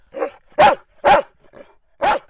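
A mongrel dog barks four loud, close barks in an uneven rhythm, with a softer half-bark between the last two.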